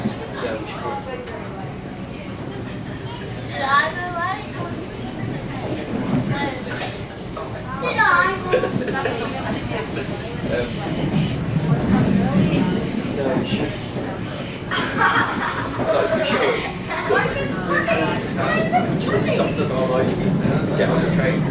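A refurbished Siemens Nexas train on Metro Trains Melbourne, running between South Yarra and Richmond: a steady interior rumble and rail noise throughout, swelling slightly, with passengers talking and chuckling over it.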